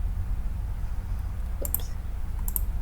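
Computer mouse clicking while drawing a dimension in Onshape CAD software, a few sharp little clicks spaced apart over a low steady room hum, close and fairly faint.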